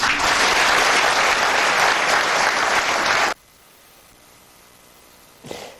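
Audience applause at the close of a French evening TV news broadcast, a loud, dense burst of clapping for about three seconds that stops abruptly, then near-silence and a brief faint rustle.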